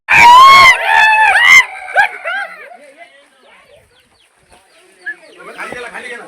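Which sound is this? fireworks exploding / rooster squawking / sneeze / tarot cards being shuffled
rooster squawking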